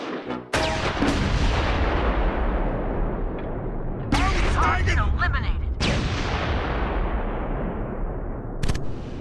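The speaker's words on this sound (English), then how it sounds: "And opens fire." Gunfire and heavy explosions in the WWII strategy game Close Combat 4, set at Clerf in the Battle of the Bulge: loud sustained booming blasts with sharp cracks, several distinct bursts, a voice briefly heard.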